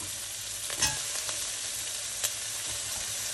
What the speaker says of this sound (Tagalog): So, ginigisa na natin yung ating sibuyas. Sabay na rin natin yung luya.